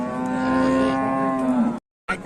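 A Russian cow about eight months old lets out one long, loud, steady moo up close, which ends abruptly and is followed by a brief pause and another short sound.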